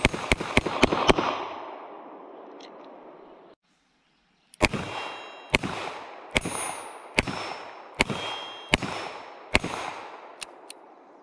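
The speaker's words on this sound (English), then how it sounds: "back inside from shooting the Smith & Wesson 351 PD" Rapid gunshots from a Smith & Wesson 351 PD .22 Magnum revolver fired at a silhouette target, loud sharp cracks in a quick string, a brief pause, then six more evenly spaced shots with ringing decay.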